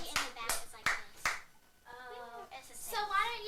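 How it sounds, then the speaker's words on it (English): A few distinct, sharp claps ring out in a slow series of four, followed by a lull and then lively children's voices and chatter. "Everyone, clap if you like the cover-up."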